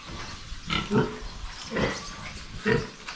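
Pigs in a concrete pen grunt in a few low, short bursts spaced about a second apart, fairly faint over background room noise.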